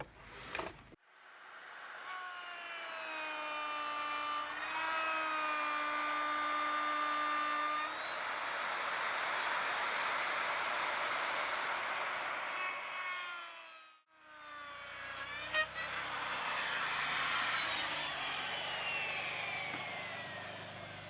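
Router cutting housings into a timber frame tie beam, a loud, close high-pitched motor whine that holds steady while cutting, winds down briefly, then spins back up.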